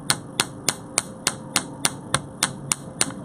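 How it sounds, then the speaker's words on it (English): A hammer strikes and sweeps down on jewelry wire to planish it for earrings, landing about a dozen sharp, evenly spaced metallic taps close by with no talking. "How I'm almost striking and sweeping the hammer down."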